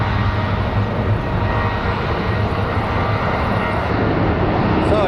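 A Delta airliner in SkyTeam special livery rumbles steadily at an airport, a loud, even broadband jet engine roar with no pauses.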